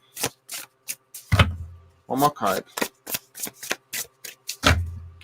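A deck of playing cards being shuffled and riffled in repeated bursts, crisp sharp snaps and rapid flutters close by, separated by short pauses while a person talks between shuffles.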